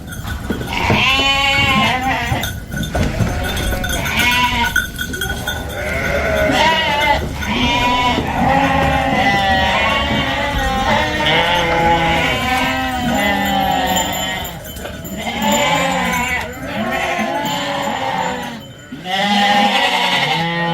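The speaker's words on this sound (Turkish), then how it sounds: "Bunlar satılık arkadaşlar. Bu kuzularımız satılık." Lambs for sale bleat loudly and continuously, many overlapping calls crowding together close by with almost no pause throughout.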